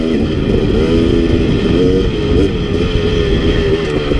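A KTM 250 dirt bike is ridden on a technical trail, its engine droning loud and continuous throughout with slight shifts in pitch as the throttle varies, close and with no voices.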